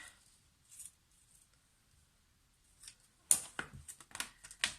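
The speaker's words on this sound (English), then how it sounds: "And I'm using my fast scissors." Paper tag trimmed with scissors, with soft snips early on and then a quicker run of crisp cutting clicks near the end, close up in a quiet room.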